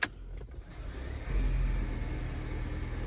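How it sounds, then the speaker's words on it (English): A 2023 Volvo XC90 engine cranks and catches after a click, then settles into a steady low idle hum, heard from inside the cabin. "I'm gonna go ahead and start the car."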